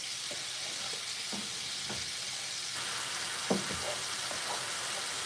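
Shrimp fried rice sizzles in a pan with a steady close hiss, broken by a few soft stirring scrapes, at low volume and without speech.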